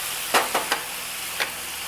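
Fish searing in a pan over high heat, a steady broad sizzle with a few short scraping clicks from a utensil, near and moderately quiet.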